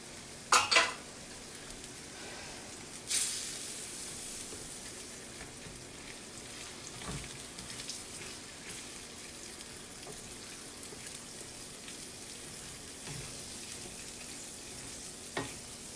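Sloppy joe sauce of ketchup and brown sugar simmering in a pan gives a faint, steady sizzle with a few sharp clanks of a utensil near the start and end.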